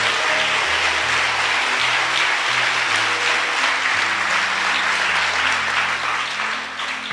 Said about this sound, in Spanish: Dale un aplauso al Rey con todo tu corazón.